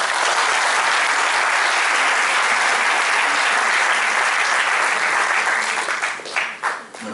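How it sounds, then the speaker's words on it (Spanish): A conference audience welcomes a speaker with a dense, loud wash of applause that holds steady for several seconds and thins into scattered claps at the end. "recibamos a Pedro con un aplauso"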